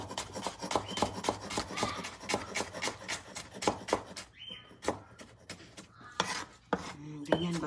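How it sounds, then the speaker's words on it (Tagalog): A knife chops unpeeled ginger into small pieces on a board, rapid regular close knocks that break off near the middle before a few scattered cuts and clatters follow, with no one talking. "Hiwa-hiwain natin siya ng maliit. hiwain yung luya"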